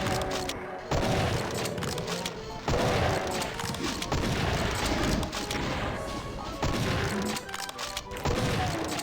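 Rocket launcher blasts in Doom II tear through a room of enemies, loud repeated booming explosions arriving every second or two, each with a crashing roar that fades before the next.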